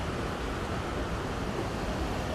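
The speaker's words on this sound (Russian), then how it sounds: "Вот он бушует, водопад." A roaring waterfall on the Khem river in Tuva, a steady dense broadband rush of churning water that stays loud and unbroken throughout with no voices.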